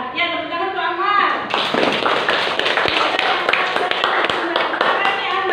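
A group of children claps in a classroom, a burst of quick, uneven hand claps that starts after a teacher's voice and carries on for several seconds, with talk over it.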